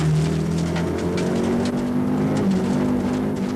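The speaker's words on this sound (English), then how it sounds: "Andrew Wood is really trying in the Audi 90 Quattro, as we can see from inside the car." Audi 90 Quattro rally car on a 1991 Donegal International street stage, heard from inside the cabin: a loud, sustained engine drone with shifting harmonics as it revs and pulls hard.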